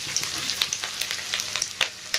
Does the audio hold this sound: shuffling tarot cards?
no